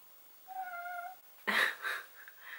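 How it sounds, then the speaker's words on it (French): A house cat gives a clear drawn-out meow at close range, then a louder, rougher cry followed by a couple of shorter trailing mews in a quiet room. "J'arrive pas bien à vous le montrer et je suis envahie par mon chat"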